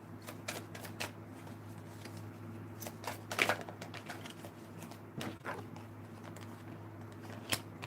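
Tarot cards being shuffled by hand during a reading, a soft, close riffling and flicking that comes in quiet, irregular bursts against a low steady hum, with no talk.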